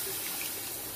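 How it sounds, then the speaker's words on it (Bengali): Water pours steadily into a cooking pot in a home kitchen, a close, continuous rushing splash with no pauses. "জল বাপু আমাদের বাড়িতে দিতেই হবে"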